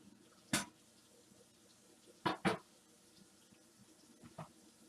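Tap water rinses dyed fabric samples in a sink, heard as three or four short, sharp splashes separated by near silence.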